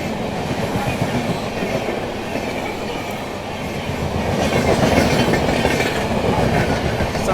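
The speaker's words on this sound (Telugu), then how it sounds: "అటు ట్రైన్ అది వచ్చింది." The Bengaluru–Bhagalpur express rolls past at close range, a loud, continuous rumble with rhythmic clickety-clack of wheels over rail joints that swells toward the end.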